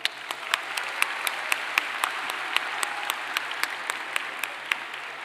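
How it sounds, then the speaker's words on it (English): A crowd at an awards ceremony claps steadily, with sharp individual claps standing out over a continuous patter, moderately distant and without talk. "Let's give them a round of applause."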